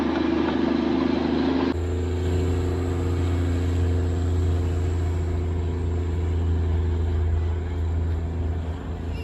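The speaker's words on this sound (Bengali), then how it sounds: "কাঞ্চনজঙ্ঘাকে পিছনে রেখে ট্রেনটা এগিয়ে চললো ঘুম স্টেশনের দিকে।" A Darjeeling mountain railway train rolls toward Ghum station, a steady low rumble with a broad engine drone that holds throughout at close range, with a sharp shift in tone early on and no voices.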